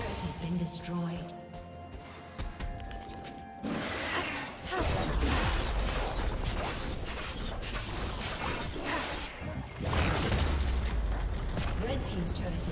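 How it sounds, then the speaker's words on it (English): A League of Legends turret collapsing, a crunching mechanical smash followed by rumbling debris, set among busy game effects with an announcer voice nearby. "Blue team's turret has been destroyed."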